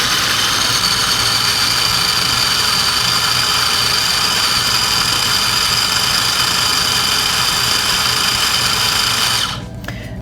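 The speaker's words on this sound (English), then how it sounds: "I'm going to blend it until it's nice and smooth." A kitchen blender runs continuously while blending hummus until smooth, a loud, steady motor whine lasting about nine seconds before it winds down abruptly near the end.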